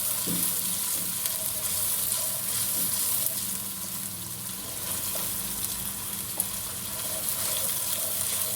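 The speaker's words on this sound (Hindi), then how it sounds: "इसको भी थोड़ा सा फ्राई करेंगे।" Garlic-ginger paste sizzles and fries steadily in a pan for chicken daal mash, a continuous close crackle with occasional stirring scrapes and no talking.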